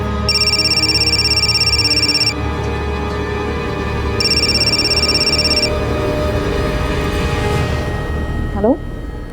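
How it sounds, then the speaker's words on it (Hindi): A synthetic electronic ringtone chirps in two bursts over a low background murmur, pausing briefly in between, fairly close and clear. "साहब, आपका फोन बहुत बज रहा है।"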